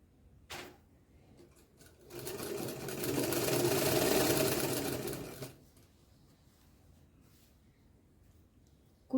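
A sewing machine stitches a belt onto Afghani pants in one steady run of about three seconds, fairly close and even, with quiet room tone and a couple of small handling knocks before and after.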